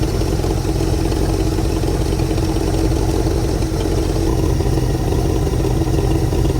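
A car engine idles steadily, heard loud and close as an even, rumbling drone with no revving. The car is a Duct Tape Drags entry running on its current distributor.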